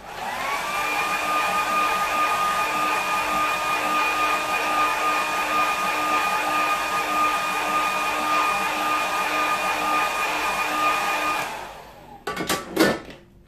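Hair dryer blowing steadily over a watercolour painting, a loud continuous whirring hiss with a constant whine that runs for about eleven seconds, then cuts off into a few brief clicks and rustles.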